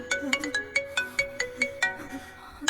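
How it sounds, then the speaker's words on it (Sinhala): A mobile phone ringtone chimes in a quick repeating melodic pattern of bright, evenly spaced notes, fairly soft and heard from nearby. "නාමල්ගේ ෆෝන් එක."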